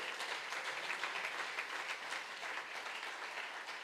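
A church congregation applauding God during a Spanish-language sermon, sustained steady clapping from a large crowd that fills the room evenly without a break.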